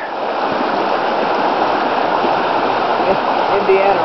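A creek rushes beneath a rope bridge, a loud, steady broadband wash of flowing water that fills the whole stretch with no pauses, close and dominant.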